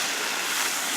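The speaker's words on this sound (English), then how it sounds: "Hose, hot water, this is great." Hot water pouring steadily from a hose outdoors during an upstate bow hunting trip, a continuous broadband rushing splash that stays even and close for the whole second, with no talking.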